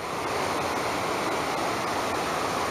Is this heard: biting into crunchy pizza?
no